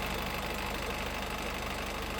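A 2018 Honda WR-V VX with the 1.5 i-DTEC diesel engine idles, a steady, even rumble with a fine rhythmic throb, close and unbroken.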